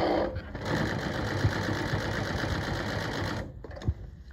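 A Consew 206RB-5 industrial sewing machine stitches through layered fabric with T70 thread, a loud steady rapid mechanical chatter running for about three seconds, then stopping with a couple of clunks afterward.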